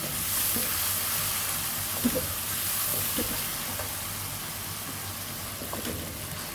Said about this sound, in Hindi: यहाँ पे इस प्याज का थोड़ा सा और हम अच्छी तरह से भून लेंगे।